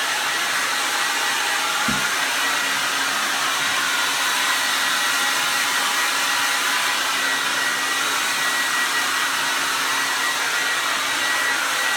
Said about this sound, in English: so drying hair